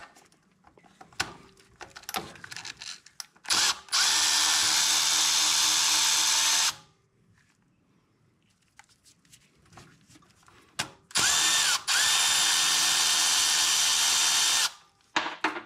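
A power tool removes the bracket bolts on a 2006-2011 Honda Civic during thermostat work, with two loud, sustained whirring bursts of several seconds each, separated by quieter clicks and handling noises.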